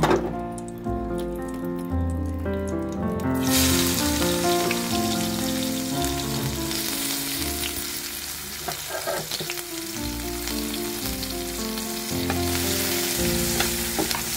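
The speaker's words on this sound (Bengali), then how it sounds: "এখন কিছু পেঁয়াজের ব্রেস্তা ভাজবো বেগুনের উপরে দেওয়ার জন্য" Sliced onions frying in hot oil for brista, a dense, loud hiss that swells after a quieter start and stays steady and close, with music playing underneath throughout.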